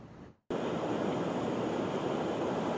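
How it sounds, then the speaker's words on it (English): Heavy ocean surf roars steadily at Delray Beach during Tropical Storm Isaias, a dense wash of breaking waves and wind that cuts in after a brief dropout. "Surf's up on Delray Beach."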